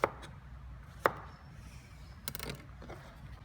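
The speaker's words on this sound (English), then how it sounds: "So we'll just chop that on the slant like that." A kitchen knife chops vegetables into chunks on a slant on a cutting board: two distinct, fairly quiet knocks about a second apart, followed by a few softer taps, with no talking.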